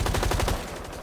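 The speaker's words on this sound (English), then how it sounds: "You can literally grenade launch it into the back." Grenade launcher firing in a video game: a rapid rattle of close, punchy shots in quick succession for about half a second, then fading into a softer decaying tail, with no talking.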